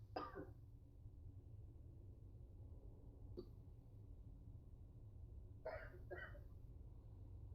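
A few short coughs or throat-clearing bursts from one person, close and faint, separated by quiet pauses over a low steady hum.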